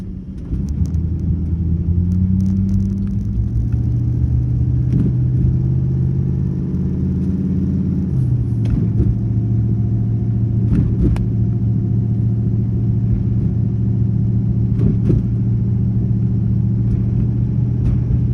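A one-ton axle swapped 2001 Jeep Grand Cherokee WJ drives along, its engine a steady low rumble throughout with a noticeable change in engine pitch partway through, as if shifting gears, and no talking.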